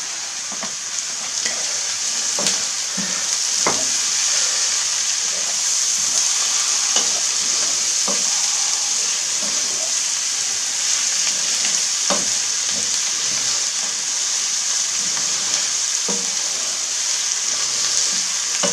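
Onions frying in a pan with salt for Corsican bastelle filling, a loud, steady hiss and sizzle that runs continuously, with occasional faint clicks and scrapes.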